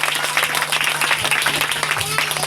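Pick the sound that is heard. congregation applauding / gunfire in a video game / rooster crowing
congregation applauding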